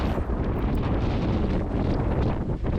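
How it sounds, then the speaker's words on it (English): Strong wind roars steadily across the microphone while sailing beneath the Golden Gate Bridge, a loud, unbroken rush with no voices. "wind started to pick up quickly"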